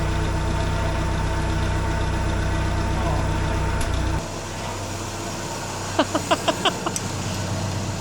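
A 1950 Willys M38 engine runs on choke just after its first start in years, a rough steady idle that cuts back partway through, followed by a few sharp knocks or pops.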